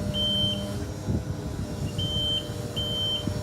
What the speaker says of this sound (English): fitted with motion alarms